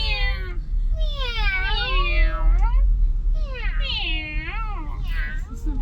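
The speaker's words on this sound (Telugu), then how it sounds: "ఇది గండు పిల్లి చిన్న పిల్లి." A tomcat and a kitten meow, a series of wavering, drawn-out cries in two bursts, close and clear over a low background rumble.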